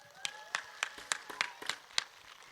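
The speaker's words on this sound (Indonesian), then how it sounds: "tepuk tangan dulu dong" Sparse, scattered claps from an audience at a live outdoor Islamic sermon in Bendorejo, about eight distinct hand claps in a loose irregular rhythm, close and fairly quiet, with no voices.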